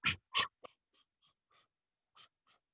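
A person imitates a dog panting, with two loud breathy huffs up front followed by a string of quick, softer, rhythmic pants in close, quiet surroundings.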